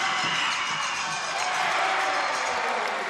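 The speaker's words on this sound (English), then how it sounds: "This crowd is loud" Loud basketball crowd noise fills an arena during a free throw in a Franklin Bulls vs Hawke's Bay Hawks game, a steady roar of voices and cheering with no break.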